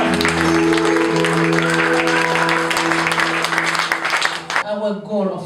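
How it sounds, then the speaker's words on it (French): A church congregation applauding during a service, loud steady clapping running continuously with music underneath, then cutting off abruptly near the end. "We applaud the Lord."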